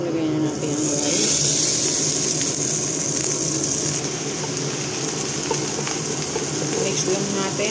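Rice being stirred into golden-brown toasted vermicelli (sharia) in a pan, with a steady close sizzle and frying hiss running throughout under scraping stir sounds.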